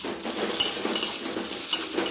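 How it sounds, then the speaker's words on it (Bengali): Food frying in butter with a splash of oil in a home kitchen pan, a steady close sizzle with a utensil stirring and occasional light clinks against the pan, no talking. "এটা যেটা ভাজছি, এটা বাটার দিয়ে ভাজছি"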